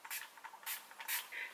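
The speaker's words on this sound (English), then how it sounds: "So I'll just spray. And remember, this is the reason why I like using this one is because it gives a really nice mist." A spray bottle mists water onto the ends of hair in three quick, close hissing bursts with short pauses between them, with no talking.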